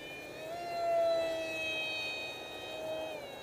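An RCPowers F-18 v3 model jet with an electric motor flies past as a faint, high, steady whine that swells and fades with distance, heard alone outdoors.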